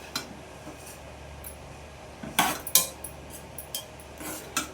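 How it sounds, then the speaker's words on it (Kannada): Sprouts palya served into a bowl with a spoon, a few soft scrapes and sharp metallic clinks of spoon against the dish, sparse and close in a quiet kitchen. "ಇವಾಗ ಒಂದು ಬಟ್ಲಿಗೆ ಹಾಕಿ ತೋರಿಸ್ತಾ ಇದ್ದೀನಿ"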